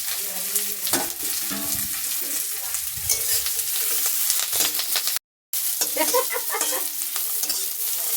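Green chillies, curry leaves and carrot fry together in hot oil with a steady sizzle, and a spoon stirs them in intermittent scraping passes. The sound drops out abruptly for a moment, then the frying carries on with no speech.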